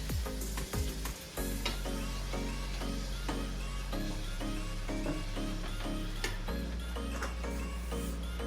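Chicken frying in a pan, a steady close sizzle with faint ticking and clinks as the pieces are turned, continuous and fairly quiet.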